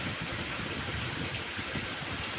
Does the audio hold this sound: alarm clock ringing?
no